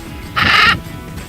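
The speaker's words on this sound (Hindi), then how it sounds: "सुना आपने, ये 2 लाख का तोता है।" A pet macaw parrot bought in Mumbai calls once in a single loud, harsh squawk lasting under half a second, close by, with no talk over it.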